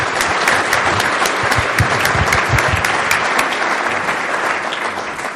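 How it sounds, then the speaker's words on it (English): Sustained audience applause for a panel at an agriculture industry conference, a dense steady wash of many hands clapping throughout, loud and close, easing slightly toward the end with no talk over it. "Let's give this panel a round of applause."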